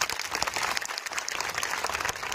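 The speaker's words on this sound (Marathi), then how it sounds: "त्यांच्यासाठी एकदा टाळ्या वाजवा." Audience applause for the organisers at a Marathi political rally, dense continuous clapping from a large crowd, moderately loud and steady throughout.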